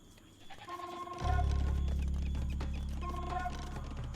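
Goats bleating in the Age of Empires video game during a grand finals match, a few short nasal bleats over a loud, steady game soundtrack with a deep rumbling bed.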